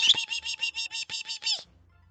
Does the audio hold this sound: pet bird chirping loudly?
yes